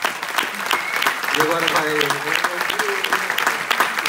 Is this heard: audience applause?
yes